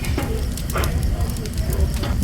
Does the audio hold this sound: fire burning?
yes